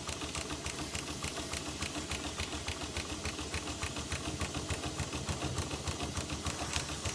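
A coal-fired Foden steam wagon's engine runs with a rapid, regular mechanical chuffing and clatter, evenly paced and close, repeating steadily throughout without anyone talking.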